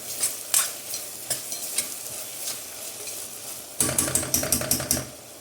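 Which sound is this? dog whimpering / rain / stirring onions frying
stirring onions frying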